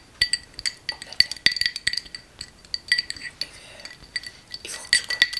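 A glass containing a drink tapped repeatedly with a hard object, close, crisp clinking rings in an irregular rhythm, with no talking.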